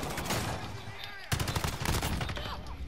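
Assault rifle fire in a first-person shooter video game, fast repeated shots in two dense bursts broken by a brief pause, with some voice beneath the shooting.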